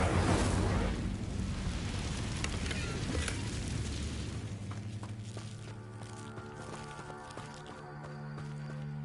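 An Incendio fire spell in Hogwarts Legacy bursts out as a loud roaring whoosh of flame that sustains for a few seconds, then fades into quiet sustained musical tones.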